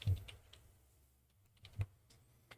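A domain name is typed on a computer keyboard: scattered close key clicks, with a louder tap at the start and another near the end, set in a quiet room.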